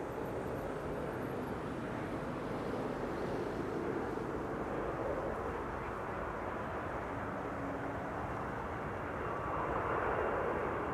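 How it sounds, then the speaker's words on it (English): A KLM airliner bound for Wrocław roars steadily at Amsterdam Schiphol Airport, its jet engines forming a continuous broad rumble and whine that holds for the whole stretch and swells slightly toward the end. "Right, this is going to be KLM flight 1337 to Wrocław."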